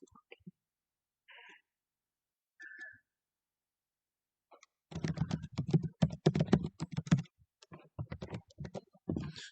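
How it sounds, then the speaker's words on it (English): A few isolated clicks, then a rapid run of computer keyboard keystrokes as a password is entered, close and clear with short pauses between bursts. "now I'm gonna type in the password"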